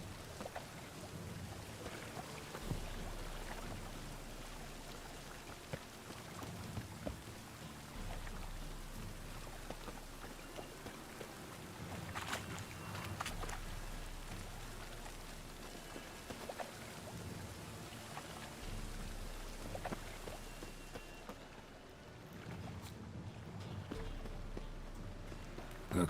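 Steady rain patters in the Witcher 3 video game, a soft continuous hiss of falling drops that stays fairly faint and even for the whole stretch, with a few faint scattered bumps mixed in.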